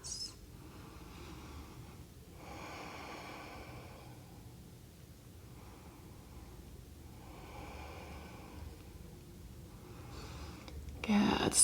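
Two or three slow, deep breaths during a floor yoga pose, each a soft airy swell with quiet pauses between, faint and close against a low room hush.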